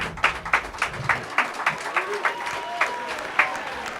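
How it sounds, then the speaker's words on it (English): A crowd applauds artist Andy Katz at an induction ceremony, a patter of claps with about a dozen distinct strong beats over four seconds, and a voice speaking underneath. "Round of applause for Andy Katz,"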